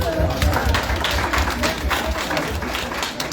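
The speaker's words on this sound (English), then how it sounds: "So clap up for that." A small audience claps together at a League of Women Voters candidate forum for the Cleveland City Council Ward 3 race. The steady, close clapping fills the moment with no one speaking over it.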